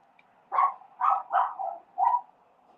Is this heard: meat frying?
no